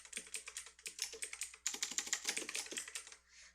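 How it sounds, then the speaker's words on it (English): Rapid typing on a loud computer keyboard, a dense run of sharp clicking keystrokes in quick irregular bursts, close and alone with no talking. "sorry about my loud keyboard, guys."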